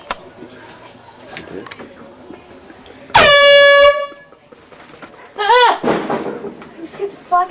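An air horn blasts once, loud and brassy, for about a second as a surprise, followed by a startled vocal outburst and people talking and reacting around it.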